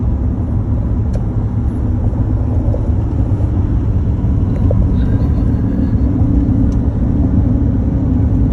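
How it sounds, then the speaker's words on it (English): A Ford F150 EcoBoost engine tows a camper up a hill on cruise control at about 62 mph in seventh gear near 2150 RPM, a loud, steady low rumble from inside the cab, with no talk. "I'm basically gonna start the hill, cruise control, 62 miles an hour, 7th gear at around 2150 RPM"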